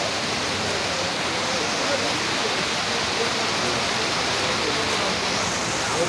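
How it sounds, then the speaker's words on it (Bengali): Heavy rain pours down outdoors in Alamdanga, Bangladesh, a dense, even roar of falling water that fills the whole stretch without pause. "আস্তে আস্তে বৃষ্টির গতি বাড়তে শুরু করেছে।"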